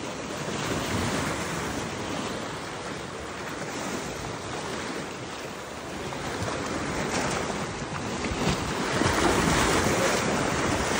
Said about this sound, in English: I see where all the water is splashing